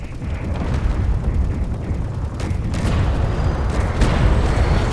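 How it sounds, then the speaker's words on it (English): Missile explosions in the space combat game Space Engineers, a dense rumbling roar with several sharper booming hits, loud and continuous. "Ouch, we got hit here by our own missiles."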